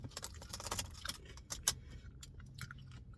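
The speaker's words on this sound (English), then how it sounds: "I need to find my keys." Keys jangle in repeated metallic bursts, close and fairly loud, as someone rummages for them inside a car at night.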